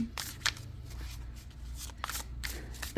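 Quick bursts of shuffling a chibi tarot deck, a few riffling rustles spaced across the moment, fairly quiet with a low hum underneath and no talking.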